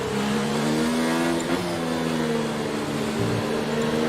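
Race cars on a formation lap in a sim racing game around Abu Dhabi, several engines droning steadily together with rising and falling harmonic tones, continuous and close, with no talk.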